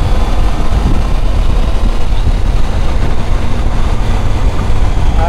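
Triumph Tiger 800 motorcycle engine pulling hard on a downhill mountain pass road, a loud, continuous low drone mixed with heavy wind rush, steady throughout with no talking.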